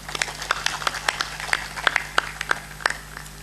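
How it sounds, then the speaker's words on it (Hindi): An audience at a Hindi spiritual discourse breaks into scattered, fairly quiet clapping, with individual sharp claps spread irregularly rather than building into a dense roar. "एक बार जोरदार ताली बजाता"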